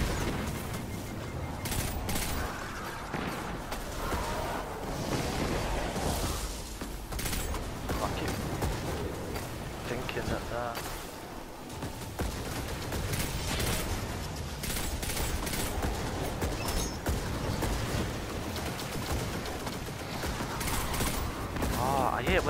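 Bursts of weapon fire and mechanical clatter from a firefight against enemies in Destiny 2, dense and constant throughout, with players talking over the combat.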